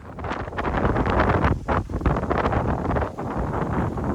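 Strong wind buffets the microphone in gusty, continuous roars on top of an ash hill overlooking Jõhvi, loud and close with brief lulls and no voices.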